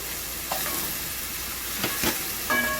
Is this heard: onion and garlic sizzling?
yes